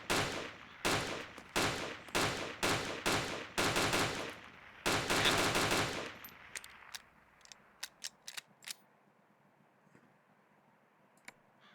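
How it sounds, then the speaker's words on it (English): Automatic gunfire in Arma 2 custom warfare, several rapid bursts close together, loud and near, then a few sharper isolated shots and clicks over a quieter hiss before falling mostly silent. "I'm gonna shoot these guys because I'm gonna see who they spawn back as."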